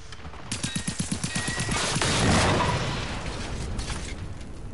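Shotgun fire in the video game Generation Zero, a rapid run of sharp blasts in the first two seconds followed by a loud swelling burst that slowly fades into a sustained rumble.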